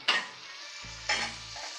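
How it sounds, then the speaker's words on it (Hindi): Masala frying in oil for panchmel dal, sizzling with two brief stirring bursts and a soft crackle in between, close and fairly quiet, a low hum beneath the second half. "ये देखिए हमारा मसाला भी अच्छे से भून चुका है इसने ऑयल छोड़ दिया है"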